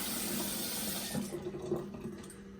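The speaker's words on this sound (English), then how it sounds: "I'm going to come back over to my sink and I'm just going to rinse this off" Tap water runs into a sink to rinse soap off a brass horn, a steady close rush of splashing water that eases and turns more broken and gurgly toward the end.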